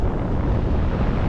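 Strong wind blows across a Danish beach while someone cycles along the coast, a loud, steady roar of gusts buffeting the microphone with no voices.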